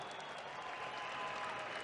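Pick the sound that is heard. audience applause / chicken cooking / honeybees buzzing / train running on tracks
audience applause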